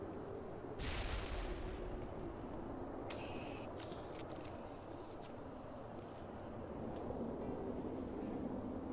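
A grenade blast in the Mass Effect game erupts as a loud, broad boom near the start, then rumbles on beneath dense ongoing gunfire and combat noise for the rest of the span.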